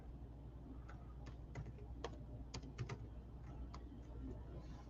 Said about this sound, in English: I'm going to see how it plays out by typing something in there